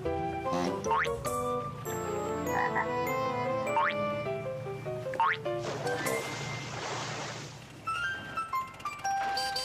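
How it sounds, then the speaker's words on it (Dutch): Cartoonish frog croaks and boinging tones over a busy musical backdrop, with springy sliding calls repeating throughout. "Kikkers leven op het land en in het water, voegt Pep toe."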